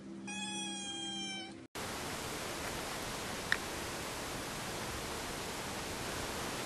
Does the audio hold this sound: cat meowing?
yes